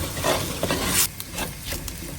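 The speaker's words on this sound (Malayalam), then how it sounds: "ഇനി ഇതെല്ലാം കൂടെ നല്ല രീതിയിൽ ഒന്ന് ഇളക്കി ചേർക്കുക" Masala powders, including coriander powder, are stirred in a frying pan for a Kerala-style crab curry: close, loud scraping and shuffling strokes over a low hiss of frying, with a brief pause midway.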